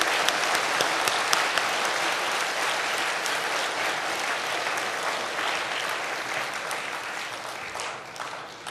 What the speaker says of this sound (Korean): 우리 어린 친구들은 우리 교회에 오랜 동안 수고하셨던 우리 어른들을 위해서 박수를 한번 치고요